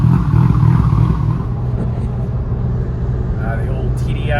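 A modified Volkswagen TDI diesel car with an upgraded turbo and twin-disc clutch, 62,000 miles, idles with a steady low rumble, close and continuous, with a slight swell at the start.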